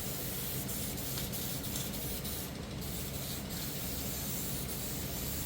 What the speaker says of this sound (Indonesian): Kita semprot tipis-tipis selapis sampai benar-benar rata untuk di warna Violet Fire-nya ini.